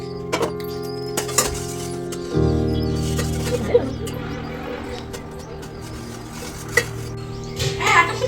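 Tea powder is stirred in a pot, with a metal spoon clinking and scraping against the sides in short bursts over a steady background hum, and a few pot knocks close by.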